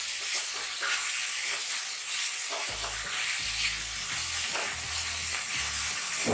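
Fenugreek leaves sizzling and frying softly in a pan over a low flame, a steady close hiss with occasional stirring, no talk.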